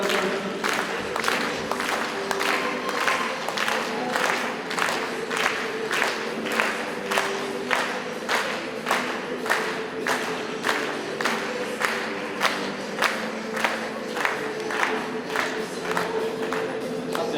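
An audience at an Icelandic horse show claps in a slow, steady rhythm, one loud clap every half second or so, throughout.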